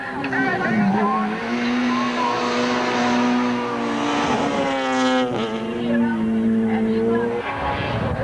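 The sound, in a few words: Volkswagen rally cars racing on tarmac circuit, tyres squealing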